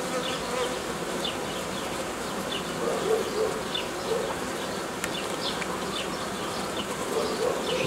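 Honey bees hum steadily at a hive, a dense, continuous close buzz with individual insects whining past now and then, and no voices over it.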